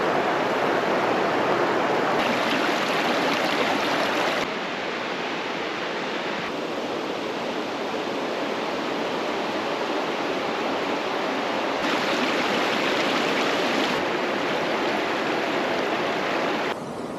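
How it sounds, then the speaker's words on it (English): A river rushes in a steady, loud broadband roar, continuous and close, with no voices over it. "But pretty cool river."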